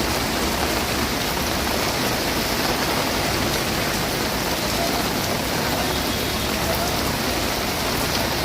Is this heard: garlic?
no